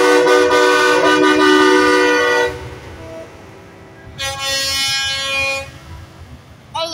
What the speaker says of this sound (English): He's got a train horn.